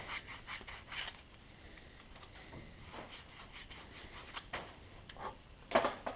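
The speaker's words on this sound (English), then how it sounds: "You can sort of clean it up a bit with sandpaper." Sandpaper rubbing and rasping over the corroded ceramic tip of a Whispergen burner, a series of soft, close scratching strokes at an uneven pace, with a sharper burst near the end.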